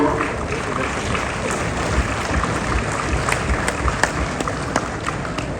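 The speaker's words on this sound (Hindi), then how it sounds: "एक बार जोरदार तालियां।" A seated crowd claps loudly at an award ceremony honouring guests and awardees, a continuous patter of many hands with a few sharper claps rising above the mass, sustained throughout.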